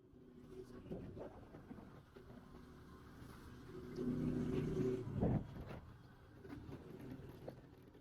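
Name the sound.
vehicle engine straining to climb uphill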